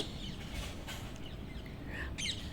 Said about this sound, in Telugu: రామచిలకలు పిట్టలు అన్నీ కూడా బాగా అరుస్తున్నాయండి